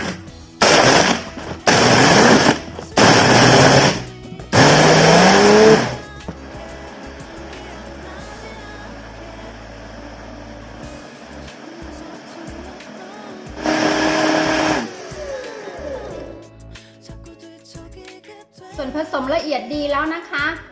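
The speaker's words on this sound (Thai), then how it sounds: "ไปลงมือปั่นกันเลยค่ะ ปั่นส่วนผสมให้ละเอียดให้เข้ากันดีนะคะ" Blender whirring through a red plum soda drink in loud bursts that start and stop several times, with quieter stretches and a later pulse of motor noise.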